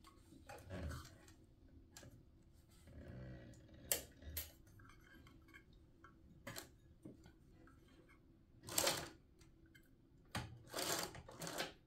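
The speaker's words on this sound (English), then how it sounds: "now I'm going to get this sewn on at 1/8 of an inch seam allowance." A sewing machine stitching a chain strap onto a bag runs in short quiet bursts separated by pauses, with faint ticks and handling noises between runs, close and soft.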